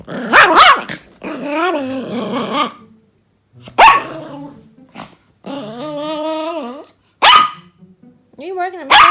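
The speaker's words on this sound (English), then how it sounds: "Why are you barking at me?" A dog barks in sharp bursts between long, wavering growls and grumbling whines, close by, with pauses of silence between outbursts.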